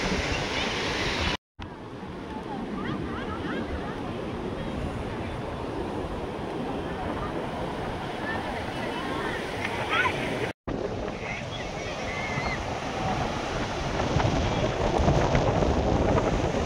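Sea waves breaking at Puri beach, a continuous rumbling wash of surf mixed with heavy wind buffeting the microphone, steady throughout apart from two brief dropouts.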